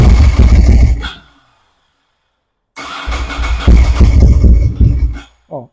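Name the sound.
Ducati Monster motorcycle engine starting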